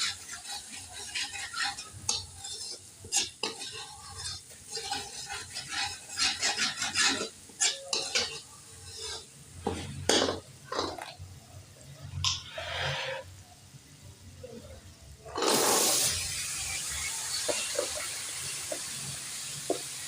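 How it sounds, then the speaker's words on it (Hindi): Potatoes and garlic paste fry in a pan with onions while being stirred for Punjabi-style aloo bhujia, giving scraping, clinking stir strokes over a steady sizzle that grows into a loud, continuous hiss near the end. "मैं लहसुन का पेस्ट डाल रही हूँ, साथ ही मैं इसके अंदर आलू भी डाल रही हूँ।"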